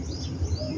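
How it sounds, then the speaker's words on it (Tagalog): Parrots call in the afternoon, bright chirps carried from a short distance above a low steady background rumble, with no talking. "Meron ako dyan nakitang parrot. Ang daming parrot dito eh."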